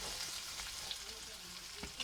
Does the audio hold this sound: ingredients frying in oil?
yes